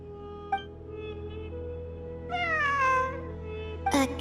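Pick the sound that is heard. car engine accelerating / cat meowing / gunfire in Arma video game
cat meowing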